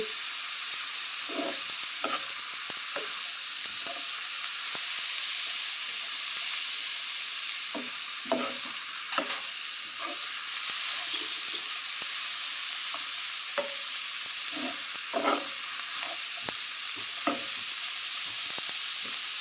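Cabbage poriyal with grated coconut being stirred in a pan, a steady sizzling hiss broken by repeated scraping strokes of the spoon at an irregular rhythm, close and clear with no talk.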